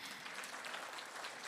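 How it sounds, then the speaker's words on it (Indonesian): An audience at a health product seminar applauds, a dense, even wash of distant clapping, faint and continuous over a brief moment. "Nah ya silahkan tepuk tangan."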